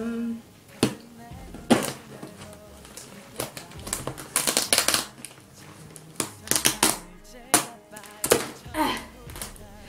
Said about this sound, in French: Il y a du papier bulle. J'adore le papier bulle.